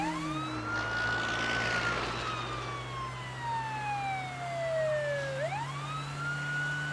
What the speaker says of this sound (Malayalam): ആംബുലൻസ് വരുന്ന കണ്ടില്ലേ? നിർത്താൻ പറ.